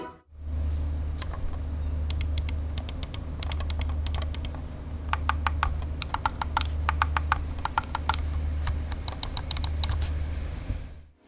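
Clicks from an Armaggeddon Scorpion 7 computer mouse: quick crisp button clicks, close and distinct, coming in rapid bursts and runs over a steady low hum.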